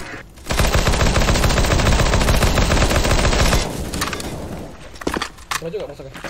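Rapid automatic gunfire in a competitive CS:GO match, a loud continuous burst lasting about three seconds, then scattered single shots and game noise, with a player talking over parts of it.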